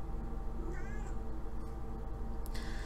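An old cat that is missing teeth gives a short, thin meow over a steady background hum, faint and brief, with a few quiet clicks around it.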